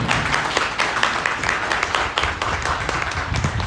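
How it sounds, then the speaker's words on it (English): A large audience applauds steadily at a graduation ceremony of the Federal Government College Kaduna alumni association in Nigeria, with a dense, continuous wash of many hands clapping throughout and no gaps. "give him one more round of applause"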